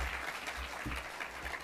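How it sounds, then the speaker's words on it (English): Audience applause at the Canadian Cinema Editors Awards ceremony in Toronto, a dense steady clapping from a crowd that fills the brief moment without pause. "So I'd like to sort of like give them a nice round of applause."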